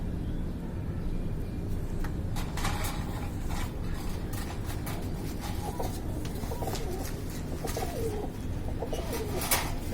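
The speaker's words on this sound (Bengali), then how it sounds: "এই যে দেখেন ফুল ফ্রেশ মাদি কবুতর" A female pigeon coos in soft, repeated low calls among other birds, under a constant background rumble from a nearby road.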